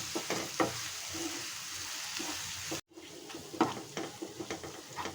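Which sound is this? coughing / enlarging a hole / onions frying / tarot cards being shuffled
onions frying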